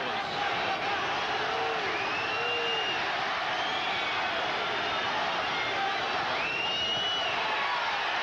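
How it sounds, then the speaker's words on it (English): A boxing crowd roars and cheers during a late-round title fight, a dense, steady wall of noise with rising whistles and shouts throughout. "although the crowd reacts"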